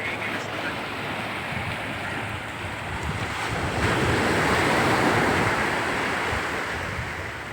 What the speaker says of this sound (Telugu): మనకి బీచ్ చూసారా, ఇదిగోండి బీచ్.